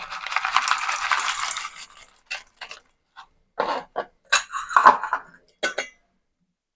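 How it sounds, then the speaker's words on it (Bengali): A little chanachur snack mix is tipped into a bowl, opening with a dense crisp rattle that thins into scattered short clattering bursts and light clinks of crunchy bits settling. "আর দিয়ে দেবো অল্প একটু চানাচুর।"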